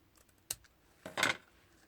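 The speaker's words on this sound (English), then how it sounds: "I'm just going to go in and cut that off." Scissors snip through a piece of card to shorten it: one short crisp cut, then a longer, louder crunching snip close by in an otherwise quiet room.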